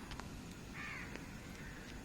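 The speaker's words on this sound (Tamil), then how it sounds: "இங்கே ஒரு காகம் உக்காந்துருக்கு" Faint crow caws sound a few times over a constant low background rumble, distant and brief.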